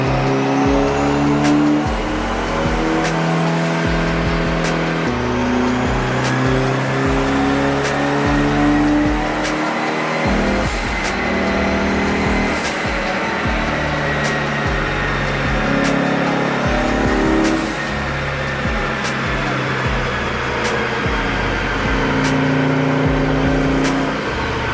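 Mitsubishi Evo 8 with a DeatschWerks fuel system running hard on a dyno, engine revving up and down through repeated loud pulls with sharp harmonic sweeps, alone without talk.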